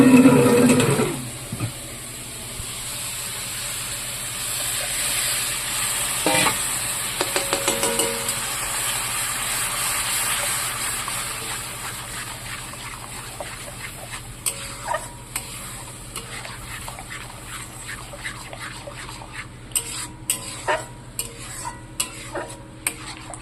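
A spoon stirs coconut paste into curry frying in a pan over a gas cooker in a home kitchen, giving soft scraping and faint sizzling, with a few sharp utensil clicks toward the end.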